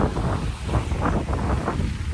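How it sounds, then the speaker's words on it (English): Strong wind gusting on a wet, windy hillside walk, a steady roaring rush with rising and falling swells, close and loud against the microphone, with no talking. "Look at that wind."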